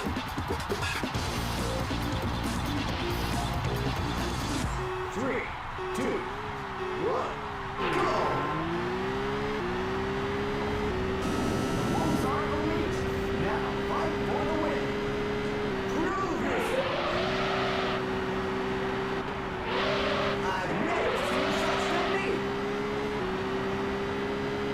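A Mitsuoka Orochi engine revs and shifts through its gears while racing around Suzuka in Auto Modellista, with a loud, steady engine tone rising and falling throughout and occasional tire or impact noises.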